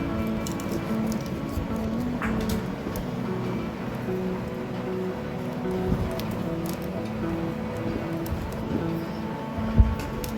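Mutton pieces are washed by hand in water, producing steady close squishing and splashing patter with a few sharper knocks and no speech.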